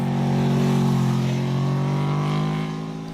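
An Aprilia RSV4 sport motorcycle engine drones loudly through its exhaust, a close, sustained, steady rumble that holds its pitch before easing off slightly at the end.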